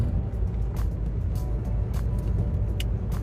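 Steady low road rumble and engine hum fill the interior of a car while driving, with a few faint clicks and rattles over the continuous drone.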